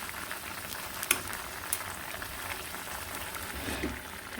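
Leaves frying in hot oil in a pan in a village kitchen before fish is added: a steady, close crackling sizzle with occasional small pops and stirring clicks, with no talk.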